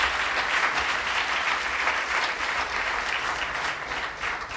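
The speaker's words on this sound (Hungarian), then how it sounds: "még egyszer egy tapsot adjunk Dave-nek." A hall audience at a worship leaders' seminar applauds steadily, a dense sustained wash of clapping at even loudness throughout, with no speech over it.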